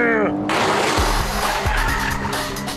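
Manual and PDK automatic Porsche sports cars driven hard on a race track, loud engine roar with rising revs, tire squeal and abrupt gear-change dips, a continuous close-up burst of motorsport noise.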